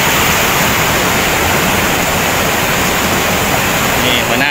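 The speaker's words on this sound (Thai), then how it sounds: "เป็นน้ำตกที่ไหลแรงมากครับ" Strongly flowing waterfall at a cliff in a forest, a loud, dense, unbroken roar of rushing water that fills the whole clip.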